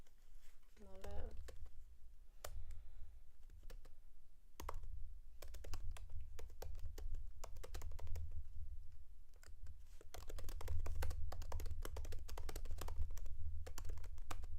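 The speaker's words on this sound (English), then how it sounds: "Now I'm typing too. Like, everybody's typing. We typing too." Clattery computer-keyboard typing in a toy and streaming room, bursts of quick key clicks coming and going, with talking voices and low background hum throughout.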